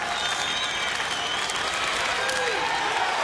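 Baseball stadium crowd at a Kansas City at Houston game cheering loudly and steadily, a dense roar of voices and clapping throughout, with an announcer talking over it.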